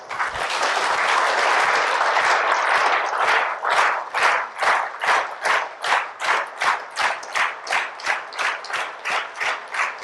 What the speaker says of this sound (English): let us all together clap